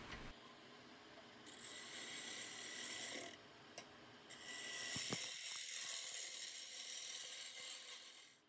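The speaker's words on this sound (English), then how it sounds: "Adjusting the tool rest." Tool rest on a switched-off wood lathe being adjusted, with faint ratcheting, clicking and scraping mechanism sounds and a couple of sharp knocks, close and quiet, no talk.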